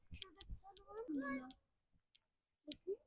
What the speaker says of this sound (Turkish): Bak orada bir tane kedi varmış